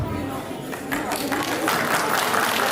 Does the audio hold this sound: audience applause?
yes